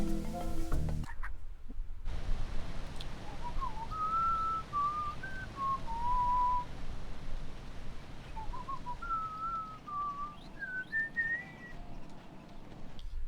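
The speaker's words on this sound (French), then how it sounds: "C'est le sifflement des plus atroces." Whistling in the DS video game Lost in Blue 2, melodic phrases rising and falling over a steady hum of background noise, two tuneful passages separated by a brief pause.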